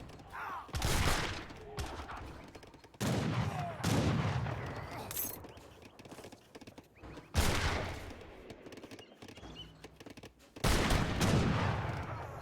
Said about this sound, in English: Skirmishers firing away.